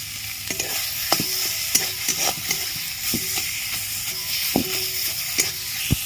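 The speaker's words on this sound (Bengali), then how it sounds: "ভেজে রাখা রসুন পেঁয়াজ বেটে নিয়েছি দিয়ে দিচ্ছি ভালো করে মিশিয়ে নেব" Fried garlic and onion paste being stirred into cooked banana flower in a pan, a constant sizzle with repeated spatula scrapes and knocks at a brisk, uneven pace, near and fairly loud, without speech.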